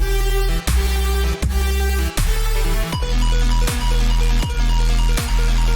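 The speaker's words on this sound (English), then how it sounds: "It's like a dubstep project I've been working on" A loud dubstep track pulses with heavy sub-bass and sharp, regular drum hits, about two per second, with buzzing synth layers between them.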